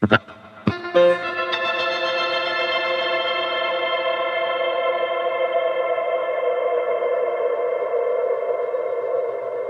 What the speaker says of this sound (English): That's 24 seconds of time after you play your note it's going to ring out for. And that's going to approximate this intense reverb